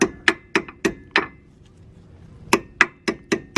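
Metal brake pad pin being gently tapped into a Maserati GranTurismo brake caliper: crisp close clinking taps in two quick bursts of about five, separated by a short pause.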